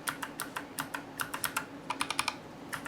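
Fingers type on a GMMK3 mechanical keyboard, a quick irregular run of crisp, close clacks in short bursts with brief pauses, alone without talk.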